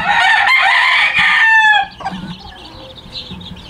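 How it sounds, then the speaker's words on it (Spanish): Hens cluck among a flock of young chicks while a rooster lets out a loud, close crow that trails off, followed by softer scattered clucks and chirps in a farmyard. "Miren nada más qué bonita se mira la gallina."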